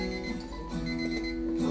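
An alarm clock rings steadily and continuously, a bright electronic tone repeating at a moderate level with no voices over it.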